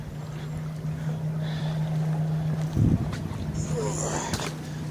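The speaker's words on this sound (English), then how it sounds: "over here, I'll only have boat traffic to listen to" Boat traffic on the Harrison River at night, a low steady engine drone humming at a distance with a brief louder swell partway through, plus light wind and faint background rustles.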